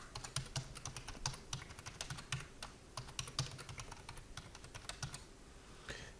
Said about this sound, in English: So I'm going to go ahead and type that in right here.